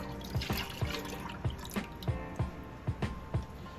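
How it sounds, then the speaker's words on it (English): Evaporated milk and whole milk pour into a pot of macaroni and cheese, with wet squishy glugs and drips landing every half second or so, close up and moderately loud, with no voices. "1 full can of evaporated milk is going in here."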